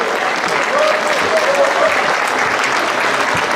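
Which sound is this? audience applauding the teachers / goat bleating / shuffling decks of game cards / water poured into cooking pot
audience applauding the teachers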